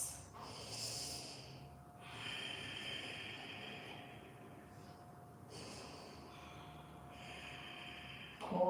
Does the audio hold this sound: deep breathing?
yes